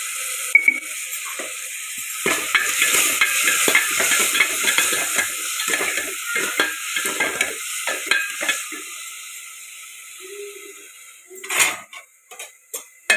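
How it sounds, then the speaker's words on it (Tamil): Salted tomatoes sizzle in a pan while a utensil scrapes and clinks against the metal in quick, irregular strokes. The stirring stops near the end, leaving a few sharp knocks over a soft frying hiss. "தக்காளி வதங்கட்டுங்க."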